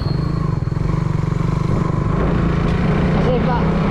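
A motorcycle rides along a road at night, its engine putting out a steady, close, pulsing drone with a rapid rhythmic throb and no pauses.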